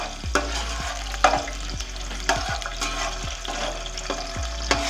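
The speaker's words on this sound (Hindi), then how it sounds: "घी हमारा गर्म हो चुका है। तो हम इसमें मेवे को फ्राई कर लेंगे। साथ ही बादाम को फ्राई करेंगे।" Mixed nuts and almonds fry in hot ghee, a soft continuous sizzle close by, punctuated by regular sharp knocks of a spoon against the pan.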